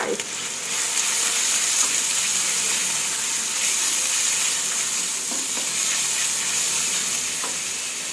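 Minced pork stir-fries in a hot pan with chili and holy basil, a steady loud hiss of sizzling oil with faint scraping of stirring, continuous and close.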